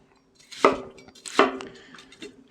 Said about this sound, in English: They don't need to be chopped particularly fine. I like a nice rough chop.